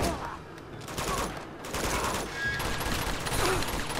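Gunfire from Uncharted 2: Among Thieves comes as a dense, continuous rattle at moderate volume, with a faint voice murmuring underneath.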